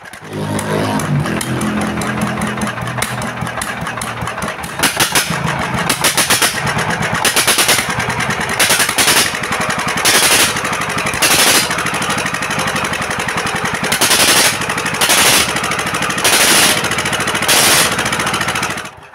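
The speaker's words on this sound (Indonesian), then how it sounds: "akhirnya mesin diesel ini sudah bisa hidup" An old 16 HP diesel engine runs loudly and steadily, with a rough rhythmic knock and several sharp bursts of louder clattering, running the whole time without any talk.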